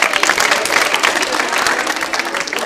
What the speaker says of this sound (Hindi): तालियां जोरों से बजाइए पायल जी के लिए